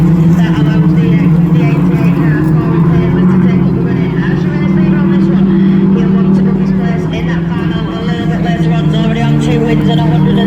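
Autograss stock hatchback racing cars battling in a pack on a dirt track at a national meeting, a loud continuous engine drone with layered revving tones, heard under steady race commentary throughout.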